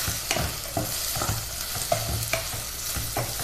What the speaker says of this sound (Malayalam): സവാളയും പച്ചമുളകും എല്ലാം ഒന്ന് വഴറ്റിയെടുക്കാം.